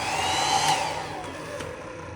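A hotel room hair dryer runs with a steady, close motorized whine and airy blowing hiss, holding level before easing slightly toward the end, with no talk.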